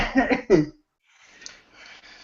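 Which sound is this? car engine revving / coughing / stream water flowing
coughing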